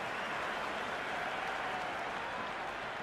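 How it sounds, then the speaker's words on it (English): A dense stadium crowd applauding at the ICC Men's T20 World Cup final between India and New Zealand, a continuous even roar of clapping heard from a distance, with no break. "It's evident and ever so audible that the crowd is at near bursting point at today's play."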